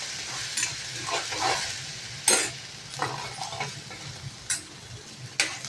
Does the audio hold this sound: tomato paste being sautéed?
yes